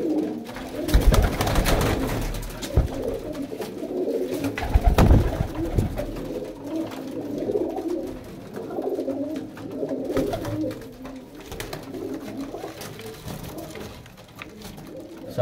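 Pigeons at a Faisalabad pigeon sale cooing steadily, with soft, overlapping coos and flutters running through the whole stretch, close and moderately loud, with a few sharper bursts of wing and body movement early on.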